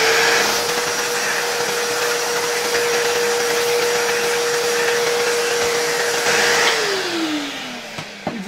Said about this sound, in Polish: No to jeszcze przeczyśćmy to wszystko trochę odkurzaczem.